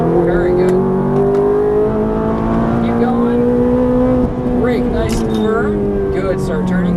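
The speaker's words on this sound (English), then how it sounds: "Then start squeezing that throttle again all the way out to the right." A Ferrari F430 F1 engine pulling hard on a racetrack, a loud, close, rising engine drone with a gear-like pitch shift midway, with an instructor talking over it.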